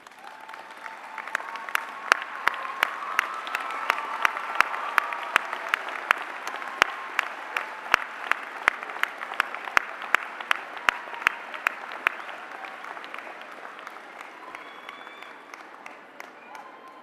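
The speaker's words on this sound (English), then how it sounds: "The class of 2018 at this time may want to rise and turn around and applaud your families." Graduates applauding their families at a university undergraduate commencement, a long steady roll of crowd clapping in a large space with distinct loud individual claps punctuating it, fading slightly near the end.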